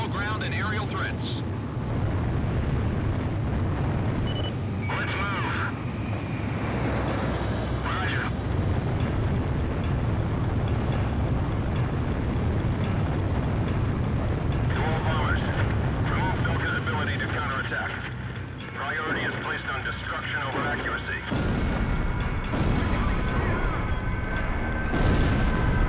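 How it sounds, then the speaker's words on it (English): Bombing over a burning city in the video game Ace Combat Zero: a continuous roar of aircraft engines and rumbling explosions fills the scene, with sharper blasts near the end, under radio chatter from pilots. "I've confirmed a burning city up ahead. That must mean the bombing started."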